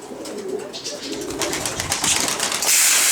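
Pigeons in a coop of roughly eighteen birds give soft cooing and fluttering, with a steady busy flock murmur that grows slightly louder toward the end.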